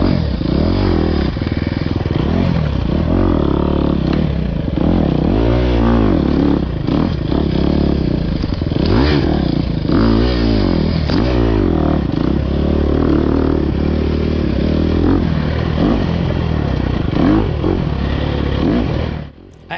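An off-road racing motorcycle on an expert-class race course revs hard and continuously, the engine rising and falling with each throttle burst, with clattering and scraping over rough terrain.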